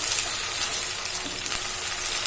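Gongura leaves frying in a pan on low heat, a steady broadband sizzle with faint hiss and occasional soft crackles, continuous and close, no talking.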